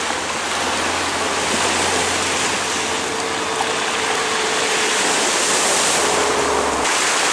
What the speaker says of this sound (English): Oh, some crashing waves over that part.